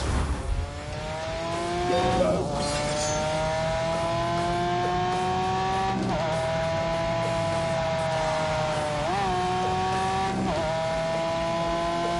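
A Lamborghini engine in a PS4 racing video game holds a loud, sustained whine with rising and falling revs, brief dips at gear shifts, and no voices.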